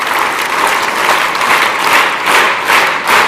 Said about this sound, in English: Okay, clap together.